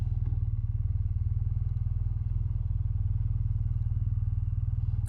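An RT motorcycle being ridden, its engine a steady, rapidly pulsing low drone with a faint clatter, close and constant.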